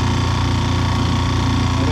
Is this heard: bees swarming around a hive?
no